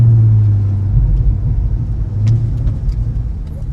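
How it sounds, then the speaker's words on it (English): C8 Corvette fitted with an AWE Touring exhaust, deep rumbling drone from inside the car with crackling pops and burbles as it shifts gears, loud and steady. "This sound, these pops, the burbles, and the smacking when it's changing gears."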